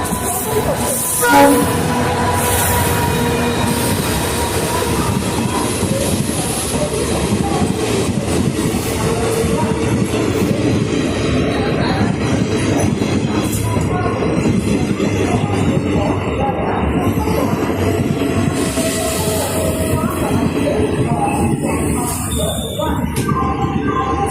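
Train rumbling into Thanjavur station as an Uzhavan Express announcement plays, a dense continuous roar with wheel clatter and a horn early on, under public-address speech throughout.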